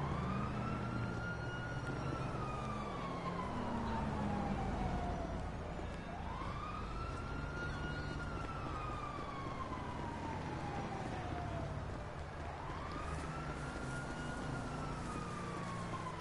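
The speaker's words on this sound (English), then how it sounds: "Anytime I hear sirens, it could be my car, you know?" Police sirens in the video game GTA 5 wail in repeated rising and falling sweeps over a steady low traffic rumble, moderately distant and fairly faint.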